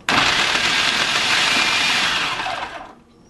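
A blender pulses fruit for a fruit salsa in a single loud, gritty whir lasting a few seconds, then cuts off quickly and fades away.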